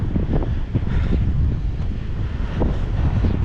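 Strong wind buffets the microphone atop an eroding seaside cliff near a beach, a loud, continuous gusty rumble with surging low-frequency blasts and no speech.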